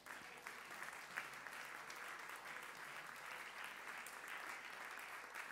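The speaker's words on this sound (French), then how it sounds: "Est-ce qu'on peut acclamer le Seigneur?" A church congregation claps together in sustained, dense applause. The applause carries at an even level throughout with no break and no voice on top.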